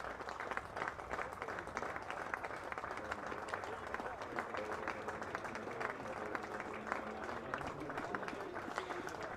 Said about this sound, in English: But I think Tom Alsop deserves a very loud round of applause here, and he's going to get one.